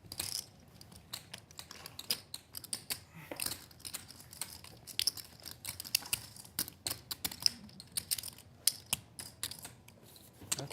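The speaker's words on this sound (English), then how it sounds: "Nothing like the sounds of chips stacking, shuffling." Small hard clicks and clatters of poker chips being stacked and shuffled come in quick irregular bursts close by at a live no-limit hold'em cash game.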